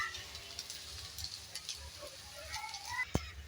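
Pulla Untalu snacks frying in a pan give off a soft, steady sizzle that stays faint throughout, with a brief metallic clink near the end.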